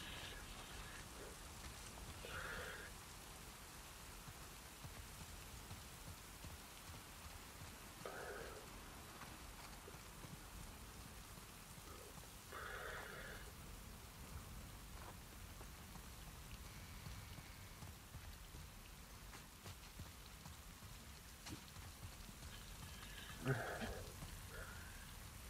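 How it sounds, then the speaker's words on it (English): Steady rain falling in The Last of Us Part II, a constant soft hiss of drops on surfaces lasting throughout at low volume, with faint scattered sounds from within the scene. "I don't think we can wait out the rain."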